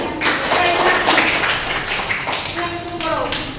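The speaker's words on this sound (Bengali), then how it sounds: "জোরে হাততালি" A class of students clapping loudly together, a steady fast patter of many hands that runs through the whole moment, with a voice speaking over it.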